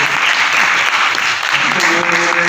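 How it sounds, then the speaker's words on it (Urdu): Audience applause at a journalism ethics talk, a dense, steady clapping from a crowd filling the whole stretch, with a voice faintly underneath. "اس پہ آپ نے کم تالیاں بجائی"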